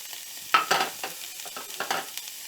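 Chopped onion frying in olive oil in a pan, giving a steady close sizzle with bursts of clatter as it is stirred; no talking.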